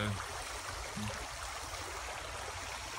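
Creek water flows steadily throughout, a continuous close rushing wash with no voices.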